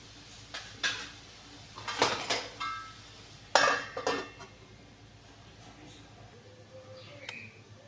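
Metal pot and lid clatter as food is mixed in a pot and covered for slow cooking while preparing a Telugu lunch box meal: several sharp clanks and scrapes in the first half, then quieter stillness.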